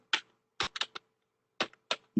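Code being typed on a computer keyboard sounds as a handful of crisp, close key clicks in short irregular bursts separated by quiet pauses.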